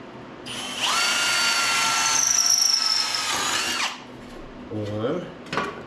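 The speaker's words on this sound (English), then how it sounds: "I'm just going to drill some holes so I can sheet metal screw them in" A handheld power drill whirs steadily for about three seconds, boring holes for sheet metal screws in a rat rod's under-seat interior lighting setup, loud and close, followed by a brief short whir and a clunk.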